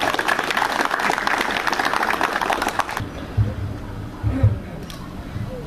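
Dense applause fills the first three seconds as a crowd welcomes the provincial mayor at a street inauguration ceremony, then cuts off abruptly, leaving quiet ambience with a few faint bumps.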